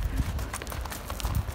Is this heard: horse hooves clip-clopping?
yes